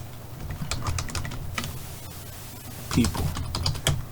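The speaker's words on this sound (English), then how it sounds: "I'm gonna type in Mexican" Irregular clicking taps on a computer keyboard, close and fairly quiet, with a brief pause midway, and a voice briefly murmurs near the end over the keys.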